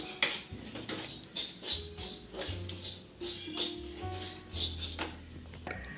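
A spoon scrapes and taps against a pan as chilli and coriander powders are stirred and mixed for a potato and onion curry with roasted coconut. The strokes are soft, close and come in an uneven rhythm in a quiet kitchen.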